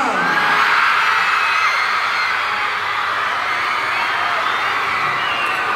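A crowd of fans shouting and cheering for JM at a Bida Kapamilya event, a loud, sustained roar of whoops and high-pitched yells throughout.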